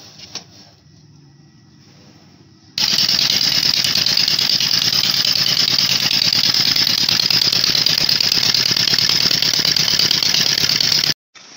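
A Honda EP 1000 portable generator engine starts up and runs with a steady, loud mechanical drone that holds unchanged for several seconds before cutting off abruptly.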